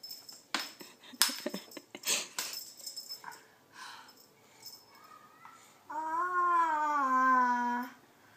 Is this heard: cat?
yes